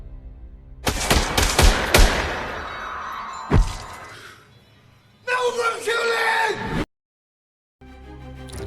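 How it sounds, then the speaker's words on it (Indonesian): Pistol gunshots in a fight film scene, several sharp loud cracks in quick succession followed by another single shot, with booming effects and a burst of noise afterward. "Hingga akhirnya Bos pun menembak lawan Danny menggunakan pistolnya."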